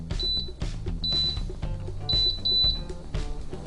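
An Emeril Lagasse pressure air fryer gives a series of short, high electronic beeps as its dial is turned, over steady background tones.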